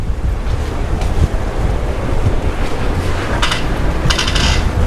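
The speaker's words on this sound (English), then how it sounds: "So the wind's definitely taking a turn." Wind gusts buffet the microphone on a seaside promenade at Port de Pollença, a loud steady rumble with brief rustling hisses near the end and no talking.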